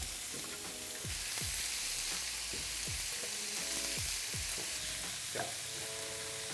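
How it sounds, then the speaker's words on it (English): Chopped vegetables for a lentil ragu sizzle steadily in hot oil, a dense continuous frying hiss with occasional crackles and soft stirring clinks, close and fairly loud with no voices. "when it's hot, you'll be able to see bubbles start to form around the veg. And that's when you know you can chuck it all in. And you'll hear that nice sizzle."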